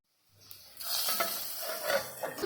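Mutton bone soup base sautéed with curry leaves in a pan until browned, a steady close sizzle with stirring scrapes and light utensil clinks after a quiet start.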